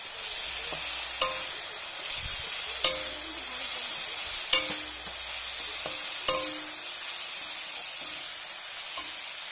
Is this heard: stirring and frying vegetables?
yes